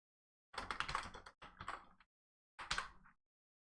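Computer keyboard typed on directly beneath a microphone, two quick bursts of clattering keystrokes, a pause, then a shorter third burst, close and fairly loud against silence.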